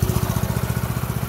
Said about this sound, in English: took the choke off, it's idling nice